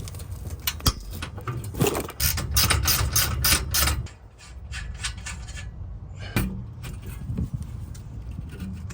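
A hand ratchet clicks in quick bursts while removing bolts from the exhaust Y-pipe on an Infiniti Q60, close and crisp, with pauses and some handling clatter between runs.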